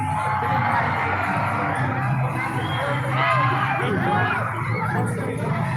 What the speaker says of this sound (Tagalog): Isang ingay naman po dyan, grade 11 students!